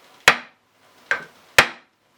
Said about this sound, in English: Try hammering right there.